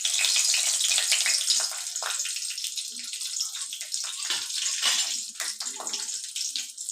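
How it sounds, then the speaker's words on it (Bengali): Nigella seeds and three green chillies sizzle in hot oil as a tempering for a pabda fish curry. A bright, crackling hiss runs steadily with small pops and gradually eases, with no speech. "এবার 15 থেকে 16 সেকেন্ড একটু ফোড়নটাকে ফ্রাই করে নেব।"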